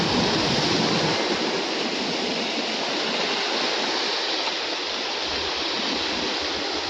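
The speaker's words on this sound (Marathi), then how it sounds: "पाणी पण बघा किती जास्त आहे लाटा मोठ्या आहेत" Big sea waves roll and crash during sea fishing, a loud, unbroken roar of surf that holds steady from start to finish with no voices.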